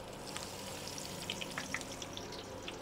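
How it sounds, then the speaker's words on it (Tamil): Mustard seeds, garlic and curry leaves sizzle steadily in hot oil, a soft, even frying hiss with scattered small pops and crackles, tempering for a Kerala-style chickpea curry. "ஓகே எண்ணெய் சூடாயிடுச்சு. இதில் இப்போ நம்ம கடுகு ஆட் பண்ணிக்கலாம்."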